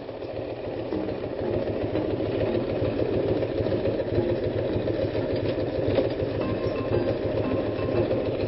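A parked motorbike engine idles steadily in a city setting in Rome, a continuous low rumble with a fine rapid pulse that stays even and fairly close throughout, with no talking.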